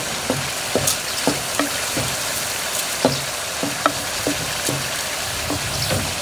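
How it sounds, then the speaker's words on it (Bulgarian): Washed rice being stirred into cabbage in a frying pan, with a steady sizzle beneath repeated scraping, clicking stir strokes at an even rhythm. "Взимаме ориза, предварително измит, и го изсипваме в зелето. Размешваме хубаво."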